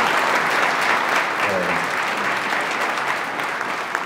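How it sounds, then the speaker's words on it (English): An audience at a community holiday celebration gives a loud, sustained round of applause, dense clapping that holds steady throughout, with a brief voice briefly audible beneath it. "So give yourself a round of applause for that."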